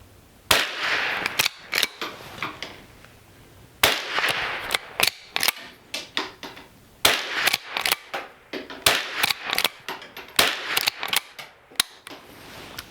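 A Winchester Model 250 rifle fires Federal Champion .22 rounds as sharp, close cracks, several spaced shots with mechanical action clicks in between, no talking.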